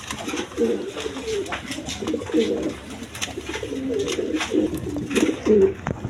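A pair of glossy Black Beauty pigeons coo close at hand, their throaty calls repeating in rolling phrases one after another.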